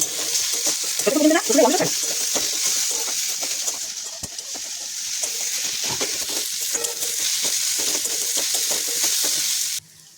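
Garlic paste frying with browned onions for a Bengali mutton curry sizzles loudly and steadily in a pan, with occasional stirring scrapes and clinks until the sound cuts off near the end.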